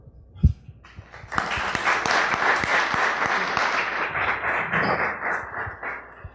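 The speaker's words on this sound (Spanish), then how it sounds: "Un aplauso." Audience applause at a lecture on environmental noise in urban areas, a dense patter of many hands clapping steadily for about five seconds after a single low thump, close and fairly loud.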